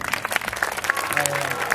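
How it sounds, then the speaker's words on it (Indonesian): A crowd clapping at an Islamic sholawat gathering, a brief steady burst of applause with a voice and faint music tones mixed in. "Tepuk tangan untuk semuanya."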